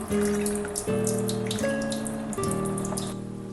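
Water runs and pours continuously into a grinder jar of ginger chutney ingredients, with a steady splashing stream and brief shifts in pitch as it fills, no voices.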